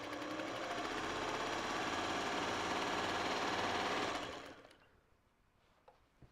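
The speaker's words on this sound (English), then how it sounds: "The long arm noise is just a bit much for my liking" A longarm quilting machine stitching with a steady, loud, fast mechanical whir that runs continuously for about four seconds and then winds down and stops, with no talking.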